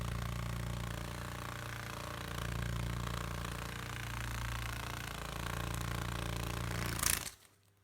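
Buzzing drone of the world's largest beetle beating its wings, a steady loud hum with a low pulsing throb that swells slightly and then cuts off abruptly near the end.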